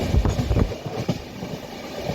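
A train rumbling along the rails between Bhubaneswar and Cuttack, Odisha, with rhythmic low thumps and clatter, loud and close, gradually easing.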